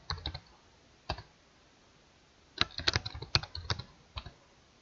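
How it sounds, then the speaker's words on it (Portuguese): Keys tapped on a computer keyboard while filling in a sales commission spreadsheet in Excel, with sparse single clicks early on, then a quicker cluster of keystrokes, close and quiet. "vou pressionar o Enter do teclado e vamos digitar os funcionários"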